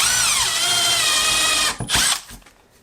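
A power drill drives screws into a floor pump base, whining loud and steady at close range before the motor slows, pulses briefly and winds down to a stop.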